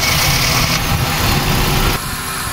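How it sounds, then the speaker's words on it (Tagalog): A Suzuki Solio with automatic transmission idles roughly after a spark plug change, with a leaking valve cover gasket and an auto-shutdown fault. The engine runs close and loud in a steady, dense hum that dips slightly near the end. "hanggang ngayon ay nagkurog-kurog pa ang andar ng makina"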